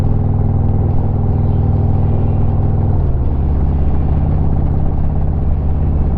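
A motorcycle rolls across iron plates on Clay Gully Road, its engine a loud, steady low drone with a metallic clatter, the pitch dropping partway through as the bike shifts, close and continuous with no talk.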